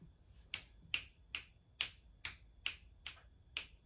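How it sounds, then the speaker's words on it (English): A cat steps across a computer keyboard, making about eight crisp, evenly spaced key clicks, close and fairly quiet over a soft background hum. "my cat is on my keyboard"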